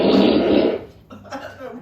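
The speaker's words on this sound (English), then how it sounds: "where's the fart gone?" A soundboard fart effect blares loud and broadband for under a second, followed by quieter, low-level talk and laughter from people nearby.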